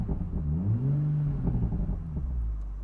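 A 2020 Toyota Supra Launch Edition accelerating in sport mode, its engine note climbing and falling in a steady, loud revving whir that fills the clip without any talk.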